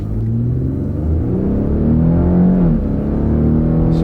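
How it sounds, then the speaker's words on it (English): A car on the road revs up and accelerates, its engine rumbling steadily and rising in pitch through a smooth upshift, close and loud with no talking. "So let's give it some gas."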